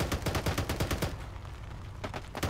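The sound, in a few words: gunfire in video game Arma 3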